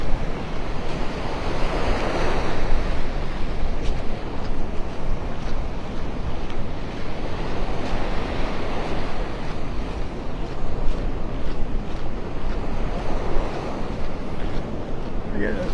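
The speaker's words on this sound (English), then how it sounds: "Especially when I turn around and get that wind in my face." Strong wind buffets the microphone on Vanderbilt Beach in North Naples, with a steady roar of surf breaking underneath. The sound is continuous and loud for the whole stretch.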